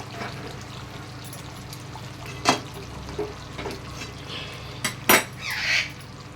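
A pot of cooked chicken kosha comes off a gas stove, with a few sharp metallic clanks and scrapes of pot and utensils against the burner, close by over a quiet background hiss.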